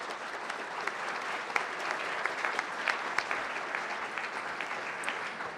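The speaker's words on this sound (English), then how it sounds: "Please join me in a warm round of applause for all of them." Applause from an audience at a City Club Measure 90 debate, a quiet, even patter of many hands clapping steadily, fairly distant, with a few sharper claps standing out.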